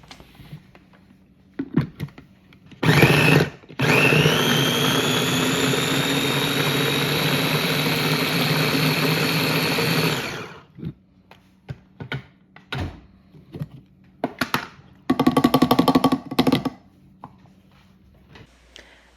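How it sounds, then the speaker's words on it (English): A food processor purees mango pieces in a home kitchen, a steady loud motor whir running for about seven seconds, then stopping, followed by scattered clatters and a short second burst near the end. "Puree in a food processor."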